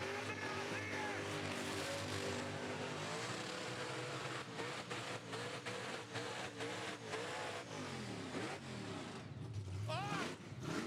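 A blown injected burnout car engine held near 8,000 RPM at a burnout event, a loud, sustained harsh roar with wavering pitch and repeated revs, an announcer's excited voice shouting over it.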